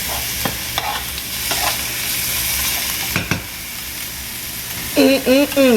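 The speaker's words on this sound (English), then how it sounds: "we're just gonna saute in the onions and the garlic and cut it down too" Onions and garlic sauté in a skillet for crab fettuccine Alfredo, with a close, steady sizzle and several clanks of a stirring utensil; a voice speaks briefly near the end.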